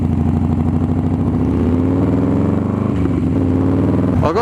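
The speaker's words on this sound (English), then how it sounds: "It's got that Harley rumble when you're sitting at a stoplight." A 2003 Buell XB9S motorcycle engine rumbles loudly nearby with a steady low throb, rising briefly in pitch as it revs near the end.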